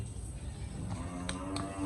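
A Jersey dairy cow on a farm gives a single low moo, fairly faint and short, over quiet background.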